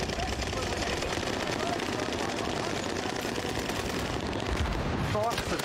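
Dense, continuous automatic gunfire from Call of Duty Warzone rattles throughout at moderate volume, with rapid bursts overlapping into a constant barrage.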